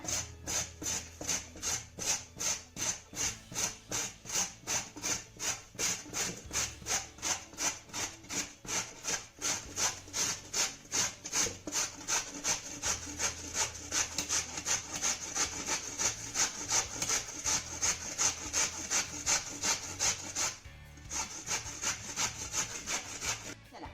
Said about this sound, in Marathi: ही गाजरं आपण मस्त अशी किसून घेऊया